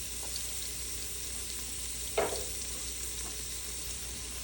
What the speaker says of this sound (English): I'm going to go ahead and put our shallot and our garlic in.